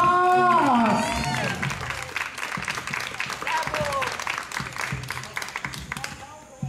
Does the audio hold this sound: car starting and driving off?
no